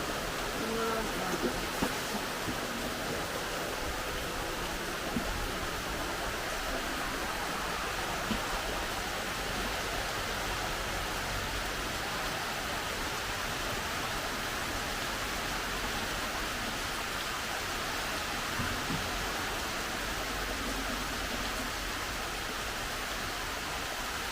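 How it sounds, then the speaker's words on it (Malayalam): Heavy rain falls in a steady, dense roar, a continuous broadband wash with no pauses, loud and enveloping throughout. "നല്ല മഴയായിരിക്കും തോന്നുന്നത്"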